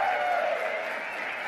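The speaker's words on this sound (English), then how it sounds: "you can clap for that, of course" Audience applause at a university pageant, a dense steady wash of clapping from a crowd that holds at an even level for the whole moment without individual claps standing out.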